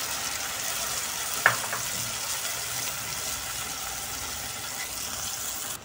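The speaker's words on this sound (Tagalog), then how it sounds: "habang ginigisa natin guys, add na natin yung ating patis para magkaroon ng lasa yung ating pork" Pork sautéing in a pan with fish sauce added, for Bicol express: a soft, continuous sizzle with one brief sharp clink near the start, no voices.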